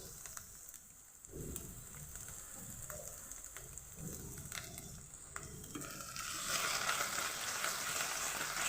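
Ginger garlic paste sizzles softly with fried onions in a hot pan, with occasional scraping and stirring sounds and a brighter hiss building near the end.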